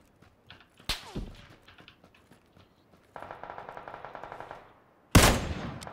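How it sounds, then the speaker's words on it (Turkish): Gunfire in PUBG on a desert map: a few sharp single shots, then a rapid automatic burst of evenly spaced rounds, and a loud close blast at the end. "Biri sıkıyor arkamdan."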